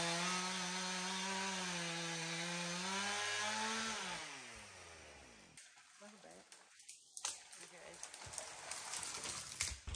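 Chainsaw cutting a poplar tree in the bush, a loud sustained engine whine that revs and then drops away, followed by cracking and crashing sounds and scattered noise as the tree comes down.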